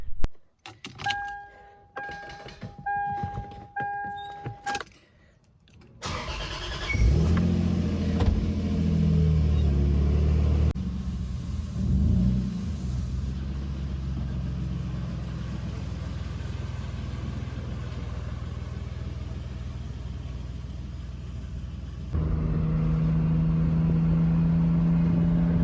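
Lexus IS300 set up for drifting, first door and key clicks with a chime, then the engine starts and the car drives off, a steady in-cabin rumble that rises slightly near the end.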